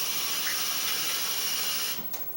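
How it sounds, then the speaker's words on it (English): Running water splashes steadily onto hands while pizza dough is being shaped in an oiled pan, a close, continuous hiss that fades out near the end with no talking. "And I put a little water on my hands"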